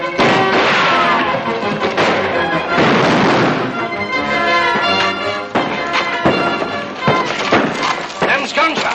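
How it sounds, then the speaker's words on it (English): Gunfire in a western film, with sharp shots and crashing impacts mixed under loud voices and a busy action soundtrack. "Them's gunshots."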